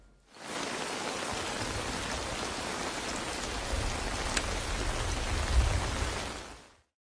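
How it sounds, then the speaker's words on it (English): Steady rain from a scene in the TV series The Pacific, a dense, even hiss of falling water that fades in, holds for several seconds and fades out, with no voices. "Now you're literally sleeping in the rain."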